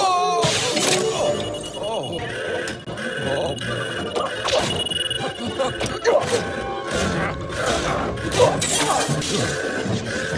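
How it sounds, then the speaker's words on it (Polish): Glass shattering in a Gumball video game, busy crashing and smashing bursts scattered through a dense mix of game music and effects, with people talking over it throughout. "już tutaj rozbijmy szkło"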